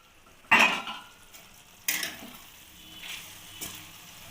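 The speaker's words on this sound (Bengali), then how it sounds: "এবার ঢাকাটা খুলে দেখে নেব।" A lid comes off a pot of flat beans simmering on the stove, with a couple of sharp metallic clanks and softer clinks over a faint sizzle.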